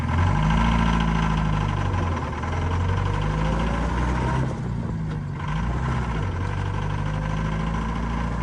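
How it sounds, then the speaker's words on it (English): A 1955 Land Rover Series 1 fitted with a tractor engine drives along, its loud, steady engine drone heard close up, with rising and falling pitch as it changes speed and a brief dip midway. "it drives brilliant for a Series 1 fitted with a tractor engine"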